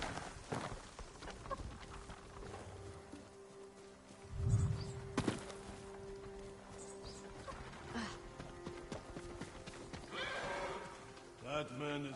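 Horses in Ghost of Tsushima on PS5 whinny and neigh amid a busy game soundscape, with a loud burst near the middle and hoof-like clatter scattered through, while a voice speaks at points over it.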